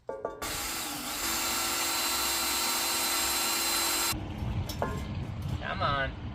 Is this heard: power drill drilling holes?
yes